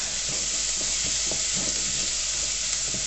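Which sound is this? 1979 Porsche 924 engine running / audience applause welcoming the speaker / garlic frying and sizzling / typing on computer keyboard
garlic frying and sizzling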